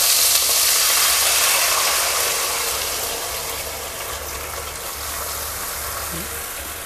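Tamarind water poured into a hot pan while cooking kara kulambu, giving a loud, steady hiss and sizzle that continues throughout and eases slightly in volume toward the end.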